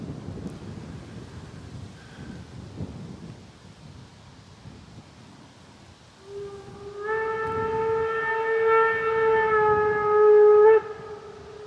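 A long, loud steam locomotive whistle blows with a rich chordal tone as the engine arrives at Geesthacht station, rising out of wind noise and holding for several seconds before cutting off.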